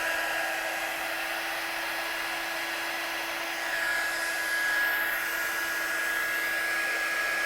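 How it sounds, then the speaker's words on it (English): A heat gun heat-setting embossing powder for a double emboss in stamping work, giving a steady, fairly loud whooshing blower hum that runs alone for several seconds with a slight swell midway. "we need to heat set this one, and what this is going to do is it's going to give us like a double emboss. Can't get the lid on that for some reason. So I'll get my gun hot"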